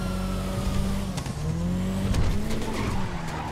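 A car drifts through the city streets of Los Santos in GTA 5, the engine droning and revving loudly while tires squeal in long skids, with shifting pitch as it accelerates, no voices over it.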